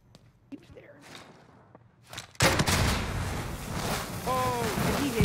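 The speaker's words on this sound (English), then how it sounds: "He shot you with a thermite" Thermite round fired in a multiplayer video game, quiet footsteps and faint noises giving way to a sudden loud blast whose dense burning, crackling roar sustains to the end.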